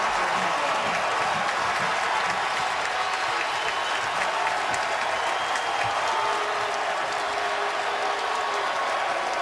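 A basketball arena crowd at a Duke versus Wake Forest game roars steadily after a finish at the rim, a loud, dense wall of cheering and applause that holds without a break.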